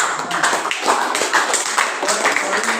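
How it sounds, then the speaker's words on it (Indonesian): Applause for a student group in an Indonesian classroom, a dense patter of many small hands clapping that keeps going steadily through the clip with voices mixed in. "Ya, tepuk tangan buat kelompok 2."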